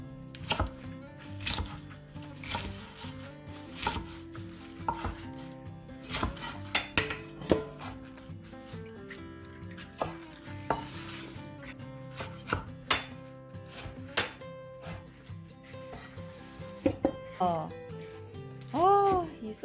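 Knife chopping wild field greens on a cutting board for a seasoned namul side dish, with repeated quick close taps in uneven bursts and some clinking of dishes around them.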